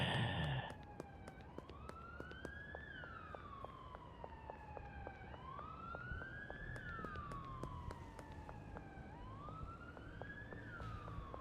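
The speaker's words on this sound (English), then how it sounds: "Do they actually have police cars going around here? That's not just a sound effect?" A police car siren wails in the video game Schedule I, a rising and falling tone repeating in slow cycles at moderate distance over a steady rumble of background noise, with no talking.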